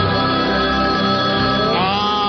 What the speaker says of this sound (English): Celebrity line ringing.